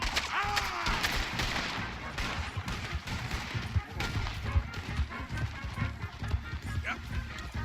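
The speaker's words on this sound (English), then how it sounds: "Open fire on him." Gunfire breaks out during a horseback chase in the video game Red Dead Redemption 2, with rapid cracks over clattering hooves and rough movement, and voices shouting over the fray.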